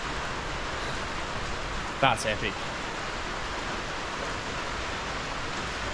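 Steady rain falling outside a garage, a continuous even hiss throughout with a brief spoken remark partway through.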